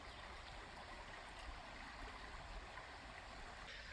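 Steady, soft rush of a shallow, ankle-deep creek flowing through a state park, a continuous even wash of water with no breaks and no voices.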